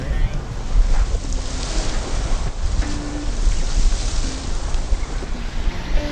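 Steady wind rush and wave wash surround a sailboat reaching past an island in about 11 knots of wind, a continuous loud roar with gusty swells and no clear talk.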